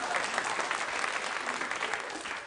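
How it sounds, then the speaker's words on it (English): A late-night television studio audience applauds in a dense, steady burst of clapping that fills the room, fairly close and even throughout before easing slightly at the end. "You're just clapping because the people next to you are clapping."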